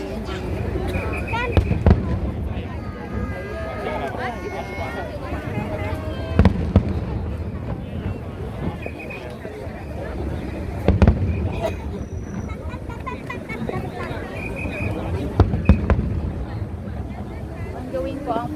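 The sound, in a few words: fireworks display at Macau Tower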